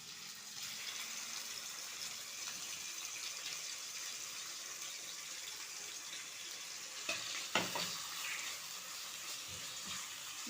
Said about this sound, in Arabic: ودلوقتي انا هحط الفراخ